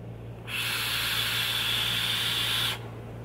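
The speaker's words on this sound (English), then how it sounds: "You can hear that airflow. It's quite loud." Steady airflow hiss is drawn through an aluminum Voopoo Demon RDA vape atomizer fitted with a 0.42-ohm coil and running at 54.5 watts. The close, even rush lasts about two seconds, then cuts off.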